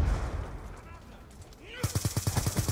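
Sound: gunfire in video game Black Ops 2

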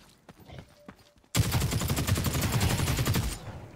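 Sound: gunfire from hip-firing a weapon in the video game The Cycle Frontier

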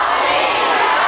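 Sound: audience applause welcoming a singer at a concert

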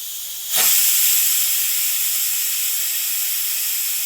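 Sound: pressure cooker whistle releasing steam

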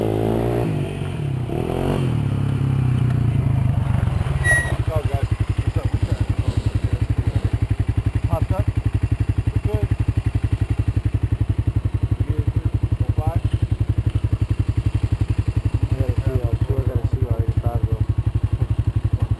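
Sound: 2001 Honda CR250 two-stroke dirt bike engine

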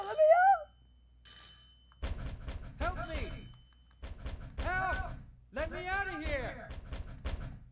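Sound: telephone ringing in video game Silent Hill 4

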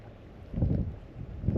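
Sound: strong wind on a river

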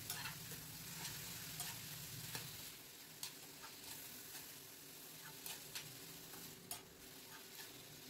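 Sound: frying chopped tomatoes, onions and green chillies

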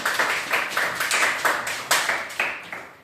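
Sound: children clapping in a classroom

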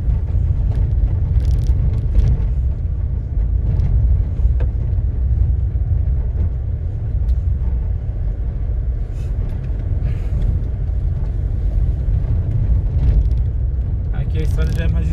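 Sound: butane gas delivery truck passing on road

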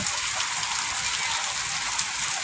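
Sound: heavy rain

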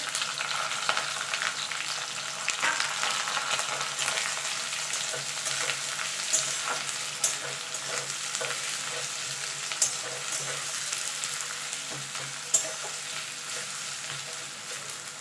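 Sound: chopped onions frying in oil

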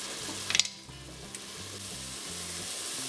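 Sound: onions and curry leaves frying in Instant Pot

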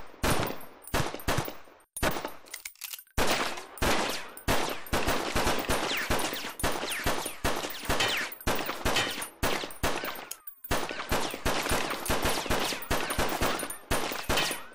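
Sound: gunfire in the VR video game Dynamic Shooting

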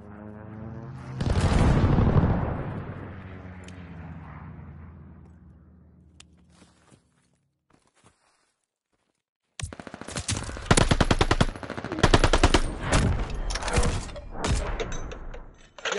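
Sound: airstrike explosions and gunfire in a video game

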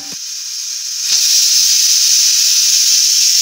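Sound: pressure cooker whistle releasing steam while cooking soybean pickle

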